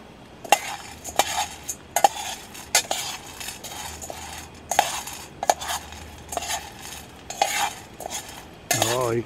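Coffee beans roasting in a pan over an outdoor bushcraft fire are stirred with a utensil, giving repeated scraping, rattling strokes against the metal with a soft sizzle underneath, close by.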